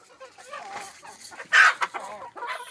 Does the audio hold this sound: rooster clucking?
yes